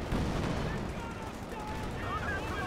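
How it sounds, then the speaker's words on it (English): Booming cannon fire from a Sherman tank shooting HE rounds at infantry in Company of Heroes 2, a heavy blast with a rumbling tail, mixed under battle noise and faint game effects. "The Sherman using its HE rounds to gib some Fox Grenadiers."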